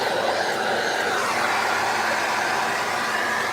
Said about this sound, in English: So give my pot a hoover.